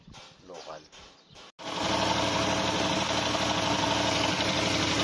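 A Suzuki Multicab F6A engine idling after a genuine Mikuni carburetor installation, heard as a loud steady close-up rumble that starts abruptly after brief talk and runs continuously.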